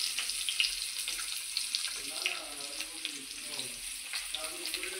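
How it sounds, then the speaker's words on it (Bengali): Chopped mango sizzling in a pan with panch phoron and halved dried chillies, a steady crackling fry with occasional stirring scrapes, close by and without speech. "আম, পাঁচফোড়ন আর শুকনো লঙ্কা এগুলোকে ভালো করে নাড়াচাড়া করে ভেজে নিলাম।"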